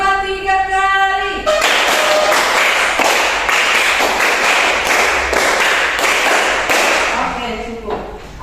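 A classroom of children claps in a rhythmic pattern, a dense run of sharp overlapping claps in quick bursts after a brief spoken count, loud and close, ending in a few scattered claps and voices.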